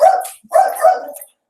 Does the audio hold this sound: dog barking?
yes